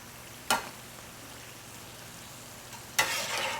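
Tortillas frying in hot oil until browned: a quiet steady sizzle with two sharp louder crackles, the second lingering as oil spatters.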